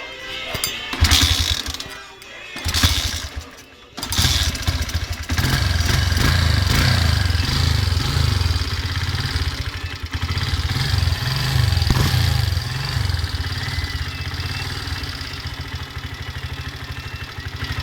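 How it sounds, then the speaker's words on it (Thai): A Honda Sonic motorcycle engine idles after its carburetor has been tuned, running as a steady, close, low rumble with a short revving burst and a brief dip near the start before settling into an even idle. "แล้วก็เรามาฟังเสียงเครื่องดูนะครับ"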